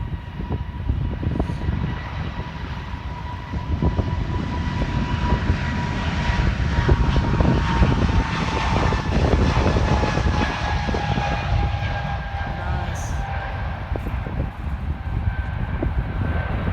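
Airplane taking off at London City Airport in gusty wind, a steady, loud engine roar that builds and holds for the whole stretch, with a broad rumbling low end and a faint whine riding above it.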